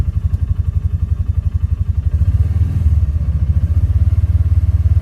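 A Polaris Ranger 570 utility vehicle engine idles steadily, a loud, even low-pitched chugging pulse close by with no voices.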